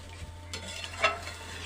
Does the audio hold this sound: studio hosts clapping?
no